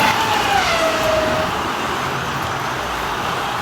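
A Scalextric Volvo 850 slot car laps a track with a steady, close whirring hum, and a high whine slides lower during the first second and a half. No one speaks.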